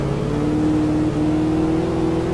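A car drives along in the video game Alan Wake, its engine holding a steady droning hum whose pitch slowly rises as it accelerates, loud and continuous with no talk.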